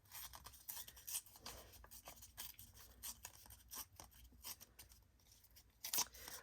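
Paper torn by hand in a rough, ragged tear for a craft masterboard, heard as a run of close, crisp ripping and crinkling bursts with small sharp snaps throughout.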